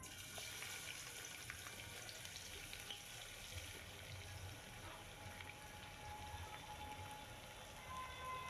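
Sliced onions sizzle in hot oil tempered with mace and cumin for a thin mutton curry, giving a soft, continuous crackling fry with faint scattered pops and no voices.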